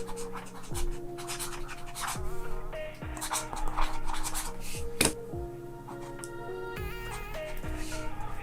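A Boox Pro Pen 2 stylus writes on a Boox Max Lumi fitted with a scratchy Doodroo screen protector, making close, faint, continuous scratchy scribbling with short strokes and small taps over a low background hum.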